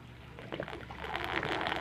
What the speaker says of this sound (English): emergency drain is not on the full siphon. It's just gravity fed. But it's keeping up with it. Loud as hell.